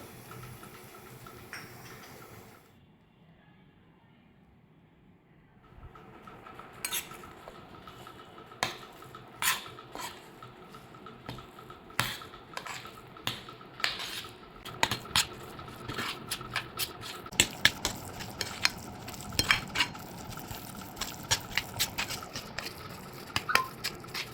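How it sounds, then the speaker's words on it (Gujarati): Raw green garlic mixture is stirred with oil for Surti lila lasan nu kachu, producing quiet repeated scraping and ticking of a spoon against a bowl that grows busier after a near-silent stretch. "તેલ રેડ્યા પછી આપણે પાંચ મિનિટ જેવું એક સરખું તેને ચલાવવાનું છે અને સારી રીતે મિક્સ કરી લેવાનું"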